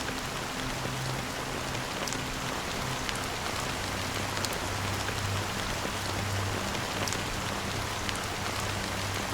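Steady rainfall in the video game Honkai: Star Rail, a dense, even hiss of drops pattering on surfaces with a faint low hum beneath, continuous and without voices.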